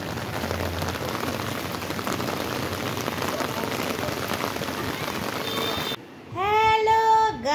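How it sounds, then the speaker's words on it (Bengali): Heavy rain pours steadily onto a surface at night, a dense, even hiss close by that cuts off near the end, where a person starts talking. "কি দারুণ বৃষ্টি পড়ছে"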